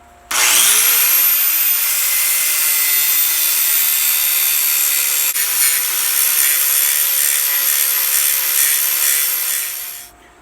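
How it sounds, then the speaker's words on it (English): A power tool cutting down metal on a build: a loud, continuous high-pitched whine that spins up quickly, holds a steady grinding rasp for several seconds with a slight shift midway, then winds down as it stops. "I'm going to cut these down and finish it off with a flap wheel"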